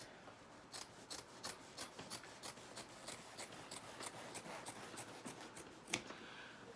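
Close, quiet scissor snips repeat in a steady rhythm through muslin fabric, each a short crisp rasp, with no talking.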